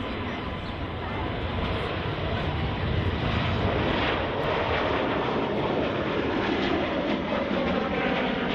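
An Airbus A320neo jet passes at Manchester Airport, a steady, loud engine roar filling the whole stretch with broadband rumble and hiss and no voices.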